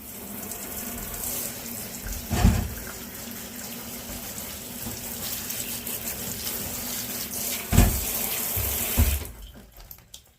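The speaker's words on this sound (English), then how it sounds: "we're gonna give her a shower next." Tap water runs steadily over a jade plant set in a sink, a continuous close splashing hiss with a couple of brief louder gushes and clunks before the flow stops near the end.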